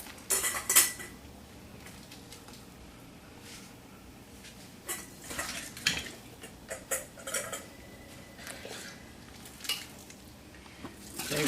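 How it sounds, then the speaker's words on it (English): Pickled beets and their juice being spooned into glass canning jars: scattered clinks of metal utensils against glass and pots, close and moderate, with softer pauses between bursts. "we've just about got them all in the jars now"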